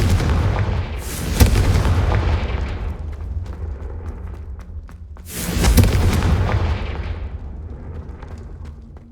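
An explosive Confringo spell from the Hogwarts Legacy video game goes off twice, each blast a loud booming burst that rolls away into a long fading rumble, with no talk over it.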